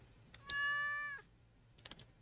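A cat in the farming game Stardew Valley gives one clear, drawn-out meow, with soft keyboard typing clicks before and after.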